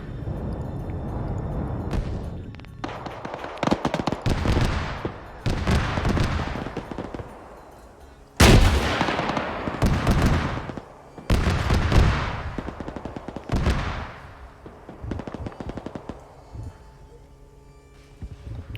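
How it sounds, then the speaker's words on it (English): Heavy combat in a video game: repeated bursts of loud gunfire and booming RPG launches, with intermittent blasts and rattling volleys separated by brief lulls, and almost no talking. "Now we're hearing RPGs launching as well. With some shots all around here."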